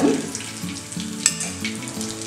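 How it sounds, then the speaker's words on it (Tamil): Mustard seeds temper in hot groundnut oil, giving a steady, close sizzle and frying hiss with a single sharp pop partway through, with no voices. "எண்ணெய் நல்லா கொதிச்சதும் இதில் நம்ம கடுகு தாளிச்சுக்க போகிறோம்"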